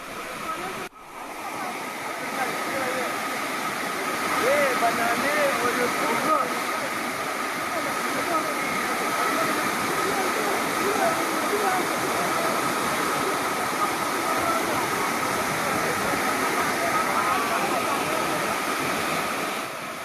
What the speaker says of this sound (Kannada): ಸೊ ಇದು ಸಿರಿಮನೆ ಜಲಪಾತ.